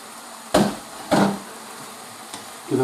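Mushrooms being stirred in a pan: a few distinct scraping strokes over a soft, steady frying hiss, with no talking.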